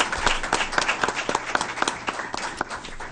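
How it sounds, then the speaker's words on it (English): A few people clap at a school board meeting, a short, thin burst of about a dozen fairly distinct claps over three seconds in a quiet room, tapering off. "how about one more round of applause for those new promotions?"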